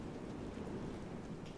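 Steady, dense rain falls as a continuous wash of noise, moderately loud and unbroken, with no voices.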